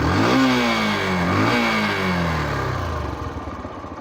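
A Yamaha YBR125G motorcycle engine nearby is blipped up twice in quick succession, then settles into a steady, slightly clattery idle, with no other sound around it.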